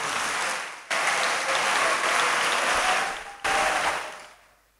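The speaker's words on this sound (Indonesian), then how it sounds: "Tepuk tangan untuk Pondok Modern Tazaka." An audience claps loudly and densely in a hall at an Islamic boarding school financial report meeting, with two bursts and then a fade at the end; no voices are heard.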